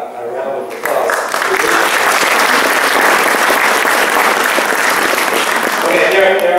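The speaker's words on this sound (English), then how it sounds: "So I think we owe a round of applause." Sustained round of applause from a lecture audience, loud and dense, starting abruptly after a brief pause and continuing steadily to the end.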